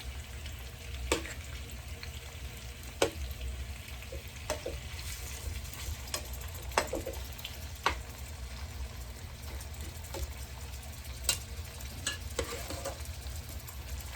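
Shrimp frying in a pan with garlic and lime gives a steady, even sizzle, broken by occasional sharp clicks of a utensil stirring. No one speaks.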